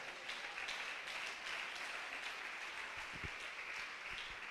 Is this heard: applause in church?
yes